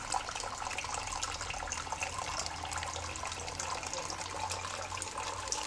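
Water runs steadily through a small fountain with a water wheel built from 50 mm PVC pipe and fed by a tiny 220-litre-per-hour pump, a continuous close splashing trickle with no voices.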